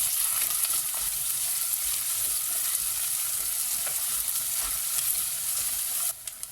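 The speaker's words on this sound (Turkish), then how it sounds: "Ve biraz kavuruyorum." A chopped medium onion sizzles steadily in hot olive oil in a pot, a continuous bright frying hiss with faint stirring scrapes, cutting off near the end.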